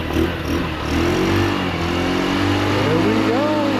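A GY6 scooter engine running after being revived from bad gas, a loud close motor drone rising and falling with throttle changes, with someone talking over it.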